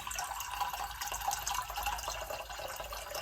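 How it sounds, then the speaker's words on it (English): Cold water running from a tap into a pan, a steady close splashing gush that continues without pause. "So I'm going to fill the pan up first of all with cold water"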